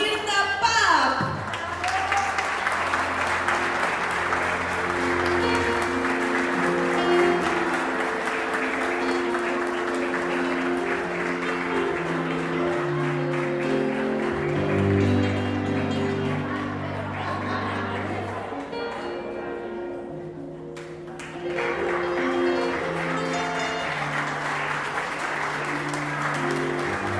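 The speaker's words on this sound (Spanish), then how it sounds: "Recibimos con un fuerte aplauso a Mirta Papp." Loud, sustained applause from an audience welcoming Mirta Papp at an event in Villa Ángela, continuing at steady strength with music-like tones beneath and a brief dip before it swells again.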